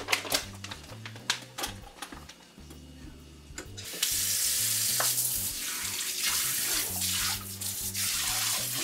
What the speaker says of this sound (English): We'll just hit these with some cold water and rinse them off.